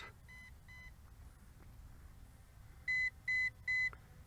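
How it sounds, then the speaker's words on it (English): Faint high electronic beeps chirp twice, then three louder beeps follow in quick succession over a low background hum: an MJX Bugs 16 Pro drone's low-battery warning. "3 beeps consecutive, which will change to a constant beeping once we hit critical low voltage phase."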